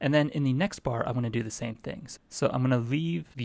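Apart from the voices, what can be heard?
No everyday noises stand out.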